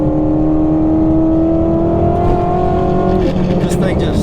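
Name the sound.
Shelby GT350 driving fast on bumpy backroad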